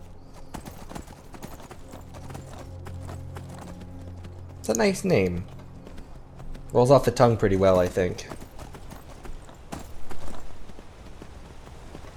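Horse hooves clip-clop steadily in Skyrim, the rhythmic hoofbeats running under a voice that comes in bursts partway through.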